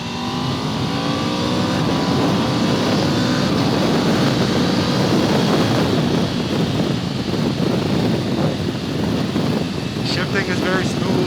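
An Aprilia RSV4 motorcycle pulls away under light throttle in a continuous loud engine drone, with wind rushing over the microphone throughout and a few brief higher tones near the end.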